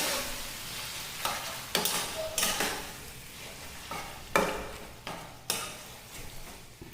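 Chicken and masala stirred and sautéed in a kadai, with sharp bursts of sizzle and spatula scrapes coming in irregular strokes over a constant frying hiss.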